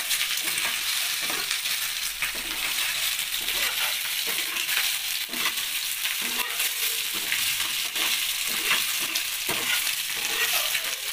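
Eggs sizzle and crackle steadily in hot oil while being stirred in a pan for Telugu-style egg karam, with continuous frying hiss and occasional spatula scrapes, close and even throughout.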